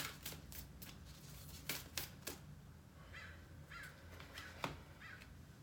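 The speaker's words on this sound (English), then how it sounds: "I have all these crows outside." Crows cawing outside, a handful of distant, harsh caws in the latter half, preceded by sharp clicking and tapping sounds nearby, all fairly faint.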